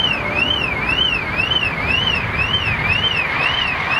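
A car alarm wails continuously in a repeating up-and-down siren sweep, fairly loud over steady background noise, with no speech.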